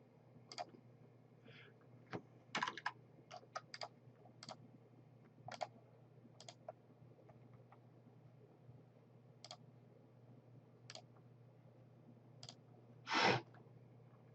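Computer mouse clicks while working in drawing software: a scattering of sharp, close, single clicks spread unevenly over quiet room tone, with a louder, longer rattle near the end and no talking.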